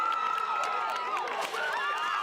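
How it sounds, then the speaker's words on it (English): A big crowd cheers at the first high school football game of the season in good weather: a steady, loud roar of many voices with shrill, wavering tones riding on top, holding without a break for about two seconds. "Big crowd, it's good weather, first ball game of the year"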